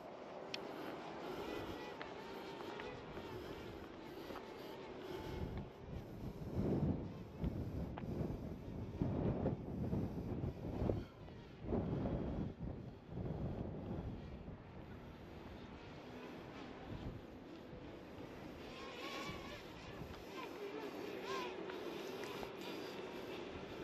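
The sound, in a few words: strong wind outdoors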